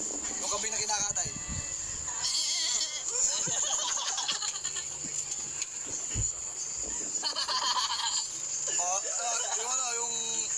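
A voice imitates a goat's frantic, strained bleating in several wavering bursts, mixed with other voices and steady insect-like hiss in the background.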